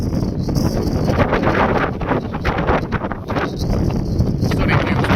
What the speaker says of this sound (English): Very windy up here today, guys.